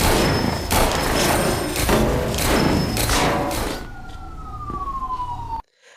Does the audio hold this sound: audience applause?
no